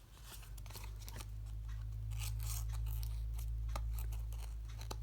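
Scissors trim paper for a handmade birthday card in a run of close, crisp snips and rasping cuts that carry on steadily over a low background hum.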